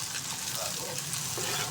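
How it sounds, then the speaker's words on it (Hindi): Onions and spices frying in a pan for an aloo chicken curry, a steady close sizzle and crackle of hot oil that holds evenly throughout, with no voices. "अब देखिए ये अच्छे तरीके से मैंने फ्राई कर लिया।"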